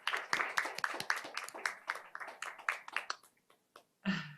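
An audience at an international forum on ICT for education, between Korea and Serbia, gives a round of applause: a scattered run of claps for about three seconds that thins out, followed by a brief voice.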